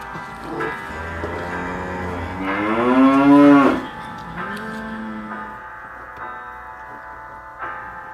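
A cow moos alone in a long, drawn-out call that swells to a loud peak and then fades into a second, lower, shorter moo, with a brief faint sound near the end.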